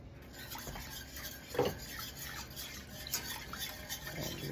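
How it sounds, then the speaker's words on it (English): A whisk stirs cream in a pot on the stove for a creamy scallop and spinach pasta dish, giving a quiet continuous scraping and swishing with an occasional louder clink against the metal. "We may need to whisk this."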